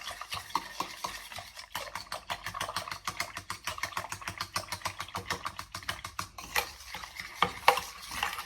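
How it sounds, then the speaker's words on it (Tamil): A whisk beats chocolate crème brûlée mixture in a bowl, a rapid, even run of close, crisp clicking strokes that pauses briefly a few times, with no voices. "ஸோ ஃபஸ்ட்டு எல்லாத்தையும் நல்லா மிக்ஸ் பண்ணிவிடுங்க."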